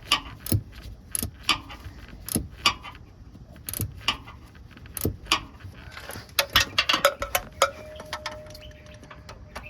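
Ratchet wrench with a 6-inch extension and 14 mm deep socket clicking on the drive belt adjuster of a 1996-2002 Toyota 4Runner, bursts of sharp ratcheting clicks and small metallic knocks, fairly close, without speech.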